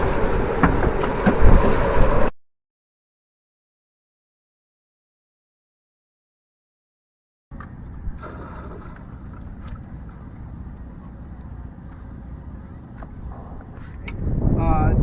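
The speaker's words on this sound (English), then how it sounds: "it's fucking blowing like motherfucker" Typhoon-strength wind roars and buffets around a boat at Puerto Princesa, a loud rushing blast that cuts out for several seconds, then returns as a steady howl and swells again at the end.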